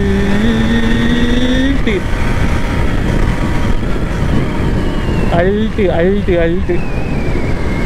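A 2023 BS6 KTM RC 200, a 200 cc sport motorcycle, is ridden on the road. The engine note climbs, dips at a gear change and climbs again under wind rush while someone speaks briefly.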